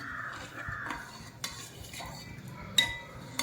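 A spoon stirs sugar and a pinch of saffron into a custard apple dessert in a vessel, with soft repeated scrapes and a few sharp clinks against the side, close and alone.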